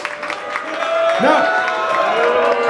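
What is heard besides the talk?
audience applause and cheering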